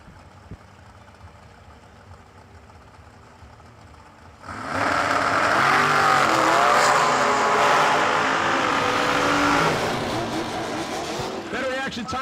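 Drag racing cars, including an all-black dragster, launch down the strip at the New Year Nationals with a sudden loud engine roar that holds for several seconds and then eases, after a quieter idle, as an announcer talks over it.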